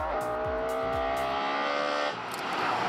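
A Ferrari F12 TDF with a 6.3-liter naturally aspirated V12 roars loudly, revving through rapid upshifts in a rising, harmonic-rich wail before settling into a steady higher-pitched drone, with no talking.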